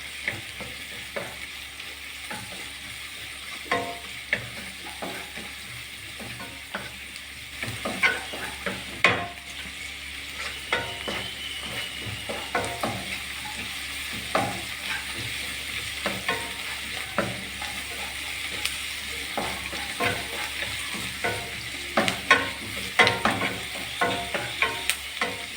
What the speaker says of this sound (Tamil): கொஞ்சம் நமக்கு இந்த ஆனியன் ஸ்மூத்தாக இருந்துட்டு போடலாம். நல்லா மிக்ஸ் பண்ணி விடலாம்.